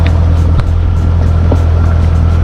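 A supercharged C5 Chevy Corvette with big aftermarket exhaust tips gives off a loud, steady low rumble close by, with no talking.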